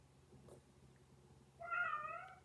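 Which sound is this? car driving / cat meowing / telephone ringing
cat meowing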